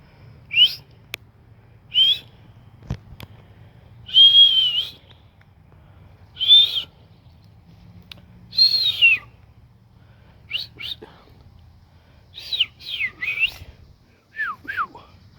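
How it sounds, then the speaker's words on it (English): A person whistles a tune in short, separate phrases, clear and close, over a low steady background hum. "I can whistle fairly decent for not a professional at it"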